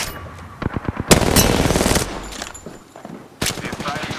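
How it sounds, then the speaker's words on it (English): Rapid bursts of video game gunfire, with automatic weapons rattling in quick strings, a loud sustained barrage, then a pause and a fresh volley, heard from a shooter match in an end zone. "They're firing on me."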